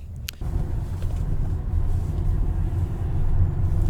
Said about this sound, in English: When the car is cold and the transmission is all cold, it has fluctuating RPMs.